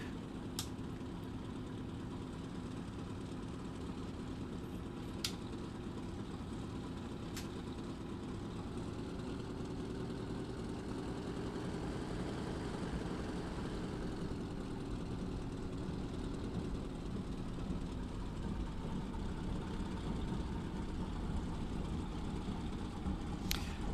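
A Corsair's piston radial engine idles in the DCS flight simulator while the aircraft taxis, a steady low rumble at moderate, unchanging level with a few faint clicks, with no voices.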